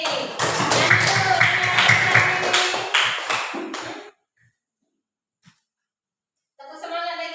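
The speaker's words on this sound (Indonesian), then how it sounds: "Ya, beri tepukan lagi" A group claps in encouragement in a classroom, rhythmic loud applause for about four seconds that stops abruptly, then silence before another burst begins at the end.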